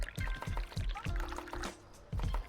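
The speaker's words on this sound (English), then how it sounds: "Eventually this becomes second nature with the tea pouring." Tea pouring in the video game Dave the Diver: a soft, steady liquid pour running beneath game music and light voice-like sound across a short stretch.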